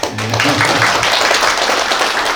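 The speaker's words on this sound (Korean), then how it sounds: "우리 박수 한번 드립시다" An audience at an education community talk event claps together, a dense and steady burst of applause holding at full level throughout, with a little speech audible at the start.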